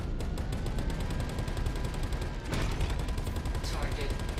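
Gunfire in the space game Star Citizen, a fast steady stream of sharp shots under a dense loud rumble, with a brief break and a heavier burst midway.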